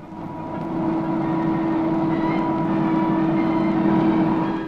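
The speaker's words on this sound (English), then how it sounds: "The latest vehicle to go into military service is the hovercraft." An SR.N3 military hovercraft, able to carry 15 tons and reach 90 knots, produces a loud, sustained engine roar with a strong steady hum. It swells in the first second, then holds evenly.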